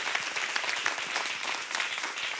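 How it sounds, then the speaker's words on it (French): A church congregation applauds during a sermon, a full, even roar of many clapping hands that stays steady throughout and is heard alone, with no voices over it. "ceux qui le croient applaudissent bien fort, s'il vous plaît."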